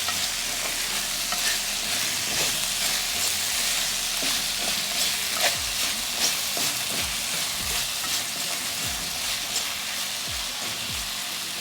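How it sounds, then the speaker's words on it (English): Jamaican kidney beans and rice are stirred in a hot pot: a steady close sizzle runs throughout, broken by repeated spoon scrapes and knocks against the pot, with no talking. "I'm gonna give it a stir"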